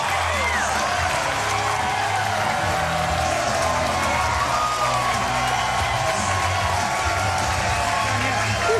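Crowd at a professional bowling match cheering and applauding after a strike, a steady broad roar with whoops sustained throughout at moderate distance, with some voices mixed in.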